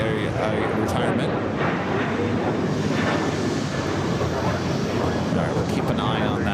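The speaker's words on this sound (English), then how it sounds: "There is a United flight coming in from Chicago O'Hare, flight 1584, 757-300, just touching down on the south side." United Boeing 757-300 airliner from Chicago O'Hare touching down on the south side at LAX, a continuous distant roar with wind buffeting the microphone, heard beneath someone talking.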